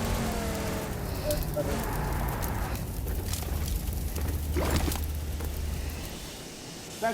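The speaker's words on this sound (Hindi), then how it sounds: "गाड़ी में आग लग गई" A burning vehicle in the mobile game BGMI gives off a steady crackling, rumbling roar with soft thuds, alone and fairly loud throughout.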